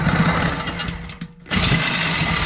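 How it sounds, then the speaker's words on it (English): A power saw cuts through the exhaust pipe of a Toyota Tacoma 3.4 V6 to free a Flowmaster muffler, with a loud steady buzzing grind that drops out briefly before resuming at full strength. "The final cut that we have to make to get the muffler off."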